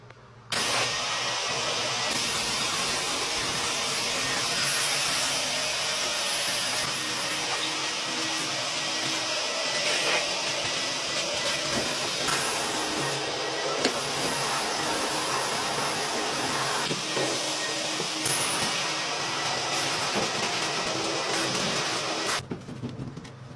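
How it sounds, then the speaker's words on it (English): Steady, loud broadband roar of a vacuum or blower pulling lint out of a clothes dryer vent, running continuously for about twenty-three seconds and then cutting off abruptly. "Cleaning the lint out of the dryer."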